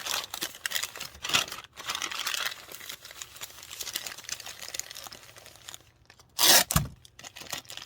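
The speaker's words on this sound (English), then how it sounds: "So then I'm going to wrap it up." An item is wrapped in packing paper, with close crinkling and rustling throughout and a sharp, loud burst of crumpling near the end.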